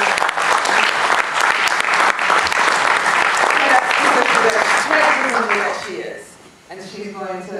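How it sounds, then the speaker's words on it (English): A TEDxPhilly audience gives a dense, loud round of applause that holds steady for about six seconds, then thins out as a voice begins talking. "just a round of applause"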